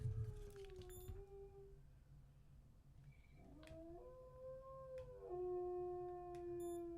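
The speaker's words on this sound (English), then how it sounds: "why is this dog doing this now?" A dog howls in long, sustained, wavering tones that rise and fall across several drawn-out cries, faint and somewhat distant, in a quiet room with no talking.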